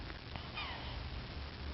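A cat gives one short, faint meow partway through, over a steady background hiss and low rumble.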